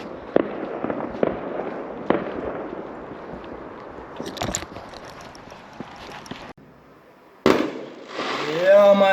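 Bonfire Night fireworks bursting outside in a Derby park, several sharp pops and crackles at a distance, then a louder blast near the end while a voice speaks.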